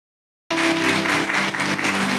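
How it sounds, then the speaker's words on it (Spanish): A Catholic church congregation breaks into sudden applause after a short silence, a dense, even burst of clapping with a sustained tonal hum beneath it. "Un aplauso a la palabra de nuestro Señor"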